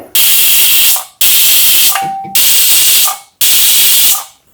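A pressure cooker whistle blasts in four loud, hissing bursts, each about a second long, separated by brief pauses, while cooking black rice.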